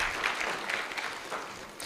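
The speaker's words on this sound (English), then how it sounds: "Let's give them another warm round of applause" An audience at a public service inter-generational dialogue conference applauds steadily, a moderate, even patter of clapping from a crowd, heard at some distance with no talking.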